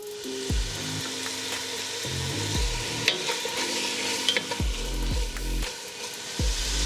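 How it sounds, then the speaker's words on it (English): Bacon renders over medium-high heat, sizzling and crackling steadily in a pot, with a faint background hum that repeatedly drops in pitch. "while your bacon is, rendering down and you frying your bacon"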